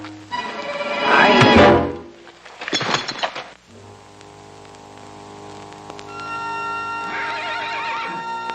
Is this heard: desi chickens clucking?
no